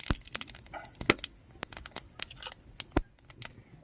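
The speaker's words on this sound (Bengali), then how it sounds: "তেল আছে আমি আর তেল দেব না ফোড়ন দিয়ে দিচ্ছি জিরে শুকনো লঙ্কা" Cumin seeds and dried red chilies hit hot oil in a kadai as tempering for a pabda fish tel jhal, giving sharp, irregular close-up crackles and pops over a faint sizzle, with no talking.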